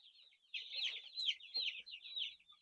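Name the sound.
broiler chickens clucking in battery cages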